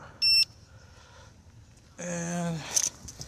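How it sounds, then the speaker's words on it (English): The electronic beeper on a T4 vehicle goes off at power up, giving a short high beep, then a louder tonal warble a moment later, close by in an otherwise quiet outdoor setting. "I don't know why it beeped like that"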